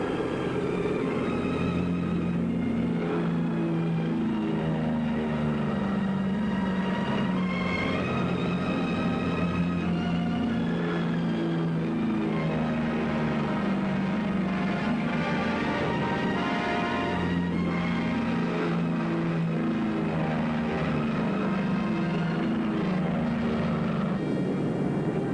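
B-17 bombers taking off in sequence, a loud sustained roar of multiple piston engines and propellers droning for the whole stretch, thick and steady with no voices.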